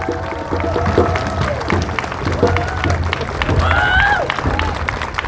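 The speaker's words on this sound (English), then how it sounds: "Another round of applause for Amy." Applause and cheering from a crowd at an outdoor Stop Asian Hate rally in Seattle, mixed with chatter and voices talking over the clapping throughout.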